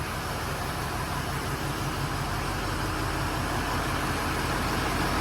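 A diesel truck engine idles steadily and loudly up close in a garage, leaking oil, a continuous low rumble with no talking.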